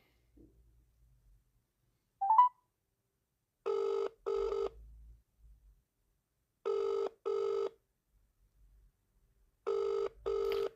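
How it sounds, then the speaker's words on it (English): Outgoing call on a telephone line, with paired ringback tone bursts repeating three times at even intervals, each pair short and steady, preceded by a faint chirp and otherwise quiet. "Ringing up Graeme, Kenna."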